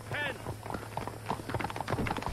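Horse hooves clip-clopping in Red Dead Redemption, a quick irregular run of close hoof knocks while someone speaks over them.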